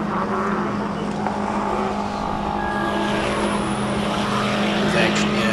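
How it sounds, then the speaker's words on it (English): Race car at a hillclimb, a Subaru Impreza among the entrants, its engine a loud steady drone with a low constant hum throughout, running continuously beneath a commentator talking over it. "Oh, that's a big sounding car as well."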